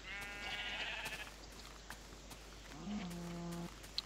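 Sheep in the Minecraft video game bleat twice, a long wavering bleat followed a moment later by a shorter, lower one, fairly close and clear over faint background noise.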